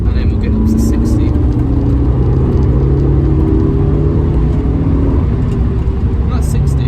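A 2004 Suzuki Ignis Sport accelerating hard in third gear, its engine droning steadily and loudly from inside the cabin with a rising mechanical hum and road noise, while someone talks over it.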